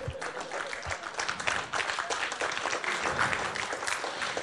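An audience applauding at an awards show, with sustained, moderately loud clapping from a crowd that carries on without a break.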